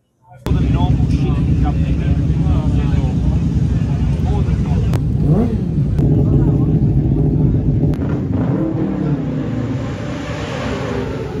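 Racing sidecar outfits on the Isle of Man TT road circuit, a loud continuous engine roar close by that holds steady throughout, with pitch swells as machines pass and wind buffeting on the microphone.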